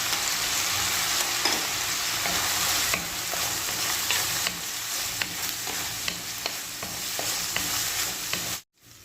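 Onions sizzle and sauté in a hot pan for stovetop homemade pizza, a loud, constant frying hiss broken by stirring taps before a sudden cut-off.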